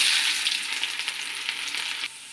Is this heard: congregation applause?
no